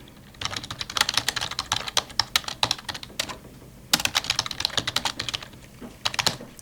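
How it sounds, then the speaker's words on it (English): Typing on a computer keyboard: bursts of rapid, close key clicks with a short pause midway, continuing steadily with no voices. "Everyone's shaking now because I'm typing."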